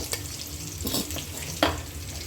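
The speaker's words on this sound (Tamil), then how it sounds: "வெங்காயம் நைஸாக போட்டு வதக்கலாம்" Onions sautéing in hot oil with fennel seeds, cumin, cinnamon and cloves for a kola urundai kuzhambu, a steady close sizzle with a couple of brief stirring scrapes and no talk.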